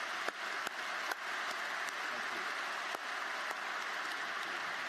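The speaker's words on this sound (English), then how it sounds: "let's have a round of applause for all these individuals" A large crowd at a spring university commencement ceremony applauds steadily in a dense, even wash of clapping, with a few sharper individual claps standing out, and no voices on top.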